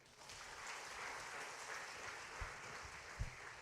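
Congregation applause at a church service during a sermon, a steady broadband patter of many hands clapping for several seconds, moderately distant, with a couple of brief low thumps near the end.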